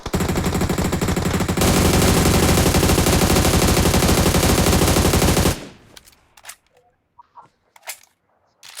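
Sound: gunfire in the video game PUBG Mobile

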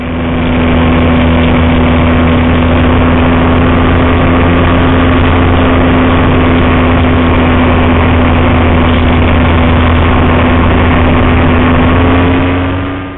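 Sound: electric motor of FMS 1400mm P-40 RC plane in flight

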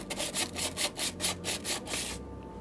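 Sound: sandpaper or scrubbing pad rubbing corrosion off metal hub

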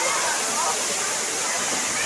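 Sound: waterfall, water falling

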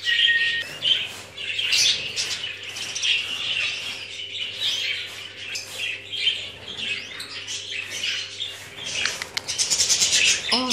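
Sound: parrots chirping and squawking

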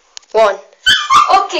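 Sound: dog barking

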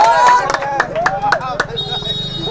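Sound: audience clapping

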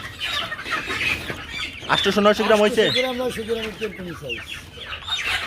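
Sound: Sonali chickens clucking

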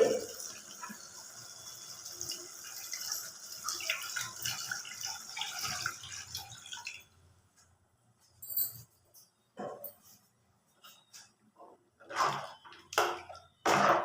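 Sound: water poured into a cooking pot

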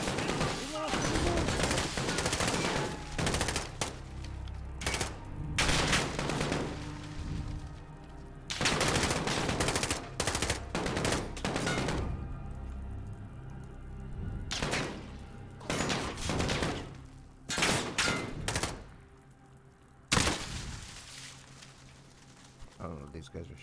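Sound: enemy gunfire in the video game Call of Duty

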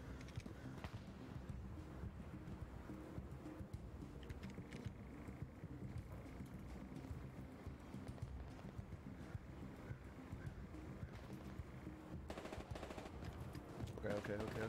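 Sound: distant gunshots in video game Hell Let Loose

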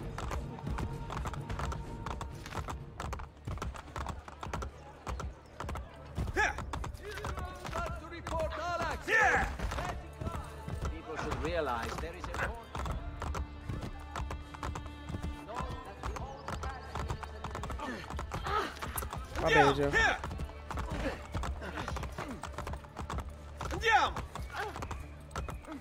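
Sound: horse galloping in a video game

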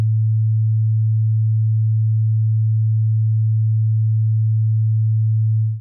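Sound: pure sine wave tone

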